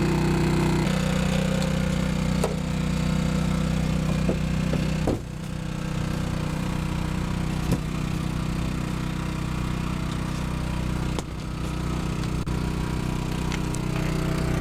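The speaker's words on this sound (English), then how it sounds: "All right, so the generator's running." A portable generator running aboard a MacGregor 26X boat drones steadily and fairly loud, a constant low hum with a couple of brief dips, no voices.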